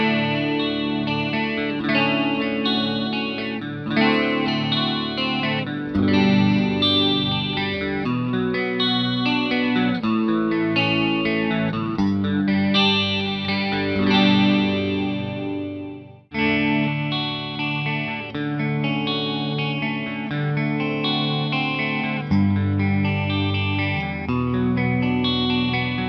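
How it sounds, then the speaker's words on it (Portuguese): An electric guitar played through a Roland Jazz Chorus JC120 amp with its chorus effect engaged gives a shimmering, wide, wavering tone across a continuous lick of chords and notes, broken by a brief pause midway, loud and close. "E saca só como é que é bonito o chorus dele."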